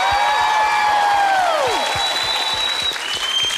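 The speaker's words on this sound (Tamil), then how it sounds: "கைத்தட்டல் பத்தவே இல்லைங்க" A studio audience on a junior dance competition stage show applauds after a dance performance, with dense, steady clapping and a few cheers under sweeping musical tones.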